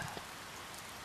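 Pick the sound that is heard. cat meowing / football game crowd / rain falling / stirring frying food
rain falling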